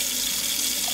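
Tap water runs steadily and loudly from a faucet into the tank of a Vax Dual V Advance carpet shampooer, a close, unbroken rushing hiss with no voices.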